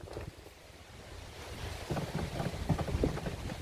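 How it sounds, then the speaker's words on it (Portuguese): Rain and gusty wind arriving outdoors in rural inland Piauí, a broad rushing wash that swells louder from about two seconds on, with scattered sharper spatters and buffeting wind noise on the microphone. "Eita, chuva grande, galera."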